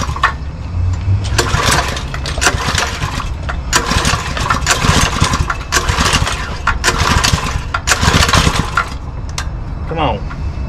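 Small engine being cranked and sputtering in a garage while prepping a worn Toyota 4Runner, loud irregular bursts of mechanical clatter and rattling that repeat across the clip with brief speech near the end.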